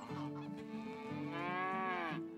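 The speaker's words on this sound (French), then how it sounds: "Il y a des veaux." Cattle lowing in the game Medieval Dynasty, with cows and calves present: overlapping drawn-out moos close by, one long call rising toward the end, with no talk over them.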